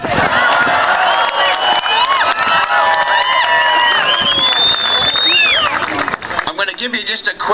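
Dense crowd cheering and whooping at a Tea Party rally for Senator Mike Lee, loud and sustained with shouts layered throughout, thinning slightly near the end.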